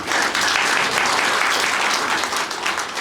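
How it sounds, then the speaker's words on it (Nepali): An audience applauds steadily and densely throughout, many hands clapping at once at a spiritual gathering of the Brahma Kumaris in Hetauda, with no voices rising above it. "ताली बजाउँदै जाउँ"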